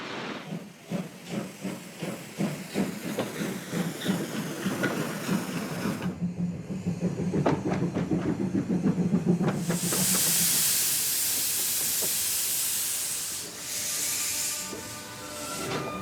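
A CFR steam locomotive of class 460, fired by both coal and oil, chuffs rhythmically while leaving the station, then lets out a loud, steady hiss of steam close by that lasts several seconds, with no talk.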